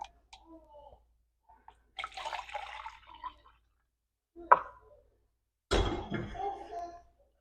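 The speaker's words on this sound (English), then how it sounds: "So I'm just going to pour this into a jug." Warm milk, heated to about 36 degrees, is poured into a jug in short bursts of liquid splashing and trickling, separated by quiet gaps, with a louder final pour near the end.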